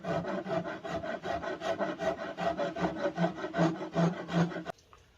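A rasp files a wooden board bow limb, giving a loud, close scraping in long, regular back-and-forth strokes that stop abruptly near the end.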